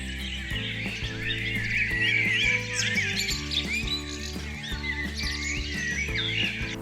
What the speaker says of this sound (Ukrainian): зимуючі птахи зустрілися з перелітними і сваряться між собою